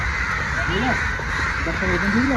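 Several crows caw loudly nearby, overlapping harsh calls against a busy background with people talking.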